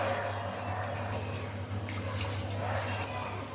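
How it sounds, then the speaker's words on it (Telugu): Water pours steadily into a pot of rice and chicken for biryani for a few seconds, a continuous rushing splash over a low background hum. "ఇప్పుడు గ్లాసుకు రెండు గ్లాసుల వాటర్ పోసుకోవాలి"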